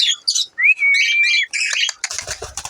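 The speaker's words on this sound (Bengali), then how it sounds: "আজকে ট্যাম করা বেশ কিছু পাখি আছে" Tame birds in a home aviary chirp in quick, close bursts, including one drawn-out whistling note. Fluttering and rustling noises follow.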